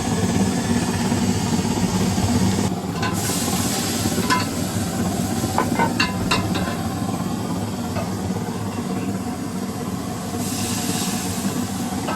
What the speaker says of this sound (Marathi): तेलामध्ये लसूण टाकलंय पहिला